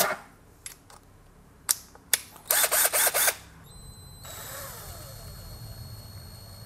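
Power Action CIS1 cordless impact screwdriver, 12-volt, running at its lowest speed: a few sharp clicks and a short burst of rapid ratcheting, then a thin steady motor whine that carries on quietly and close.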